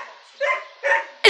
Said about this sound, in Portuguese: Aquele cachorro ali tá me incomodando.